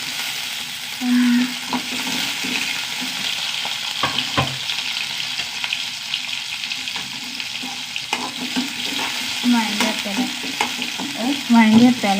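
Ginger and garlic sizzle and crackle in hot oil while being stirred, a steady close frying hiss with scraping stirs and occasional louder spatters; a voice speaks briefly.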